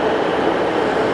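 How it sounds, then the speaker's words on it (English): Northern passenger train at Wakefield Kirkgate station, a loud steady rumble and roar of the train running close by, heard alone without talk. "It would be the 1849 Northern service to Leeds."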